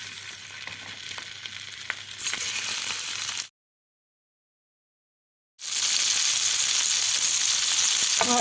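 Sausage sizzles in a hot pan with a single spoonful of oil, a steady close frying hiss that cuts to silence for about two seconds midway, then resumes just as loud.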